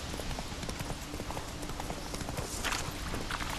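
Horse hooves clip-clop in a steady trotting rhythm, Geralt's horse Roach in The Witcher 3, moderately loud and alone with no talk.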